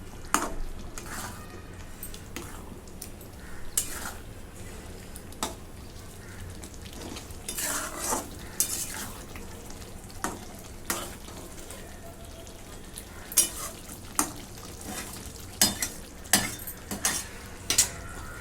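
Egg masala gets stirred in a pan over gentle heat, a spoon scraping and clinking in irregular strokes over a low sizzle, the taps growing sharper toward the end.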